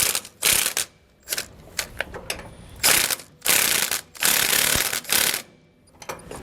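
Ratchet tightening a bolt on a Roadmaster rear anti-sway bar fitted to a 2019 Coachmen Pursuit motorhome, close bursts of rapid clicking in several separate pulls with short pauses between.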